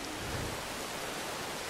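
Heavy rain pours in the game Ancestors: The Humankind Odyssey, a steady, even hiss of dense drops with no pauses, fairly quiet overall.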